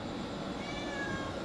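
A kitten meows softly and continuously, a faint, drawn-out call heard alone in a quiet room.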